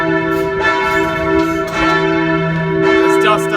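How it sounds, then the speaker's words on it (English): Church bells ring loudly in Pristina, Kosovo, with sustained metallic tones and overlapping strikes carrying through the city air. "I'm surprised the bells are going"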